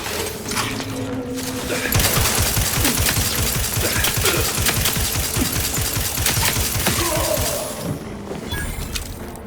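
Sustained bursts of rapid automatic gunfire in the video game Outer Worlds 2 run loud and steady for several seconds before thinning out, with no talking.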